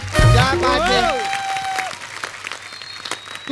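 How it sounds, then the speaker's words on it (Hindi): Audience clapping at a television entertainment show, faint scattered applause under a loud burst of music and voices at the start, then continuing softly in the background. "एक बार बोल बच्चन फैमिली के लिए जोरदार तालियां हो जाएं।"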